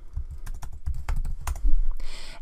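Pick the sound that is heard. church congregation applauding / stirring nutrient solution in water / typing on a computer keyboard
typing on a computer keyboard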